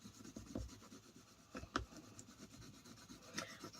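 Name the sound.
bone folder rubbing over cling film on paper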